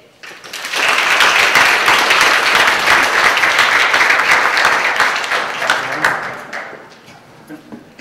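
Sustained audience applause welcoming the Heads of State to a lecture and exhibit series event, steady and full for several seconds before tapering off, with a voice briefly heard near the end.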